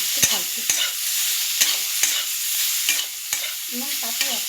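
Pumpkin and taro being stirred in a frying pan with a spatula, steady scraping strokes at an irregular rhythm over a continuous oily sizzle, close and moderately loud with no voices.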